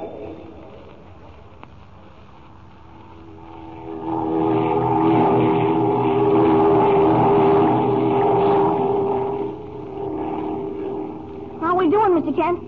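A droning propeller-plane engine swells in and holds steady, then fades slightly as a voice speaks briefly near the end.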